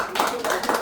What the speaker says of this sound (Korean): 우리 한동욱 회장 큰 박수 옵니다